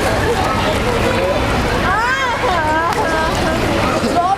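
A swimmer blows into the water during a swimming lesson, giving a steady bubbling and splashing wash under a busy, echoing pool ambience, while an instructor's voice can be heard over it.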